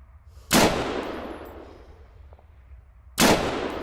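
Two sharp, loud AUG rifle shots in Arma 3, spaced a few seconds apart, each a sudden crack followed by a long rumbling echo that slowly fades.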